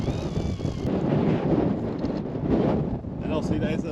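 Strong wind gusts of about 20 mph buffeting a hilltop trig point near a tent, a steady loud roar of wind against the microphone throughout with surging gusts.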